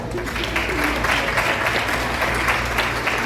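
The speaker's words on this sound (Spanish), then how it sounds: "Un fuerte aplauso, por favor." Audience applause for a speaker at a conference on water culture and climate services, steady continuous clapping from a crowd, moderately loud over a low hum.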